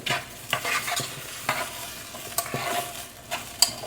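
Seasoned chicken, broccoli and rice casserole ingredients are mixed with a spoon, giving irregular clacks and scrapes against the dish over a soft wet rustle, close and fairly loud.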